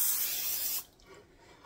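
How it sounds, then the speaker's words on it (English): Cooking spray misted into an 8x8 baking pan, a steady close hiss for under a second, then a quiet pause ending in a short sharp knock. "Now you're going to take an 8x8 pan and make sure you spray it really,"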